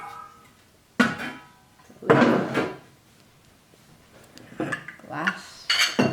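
Glassware and dishes clinking as they are put away into a deep drawer, heard as several separate bursts of clatter with quiet gaps between them.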